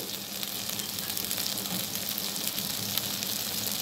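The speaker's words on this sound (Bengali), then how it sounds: "এই দেখুন এইভাবে মাঝে মাঝেই নাড়াচাড়া করে দিতে হবে" Kochur loti, taro stolons, fry in a pan with a dense, even sizzle throughout, with soft stirring faintly audible beneath the hiss at close range.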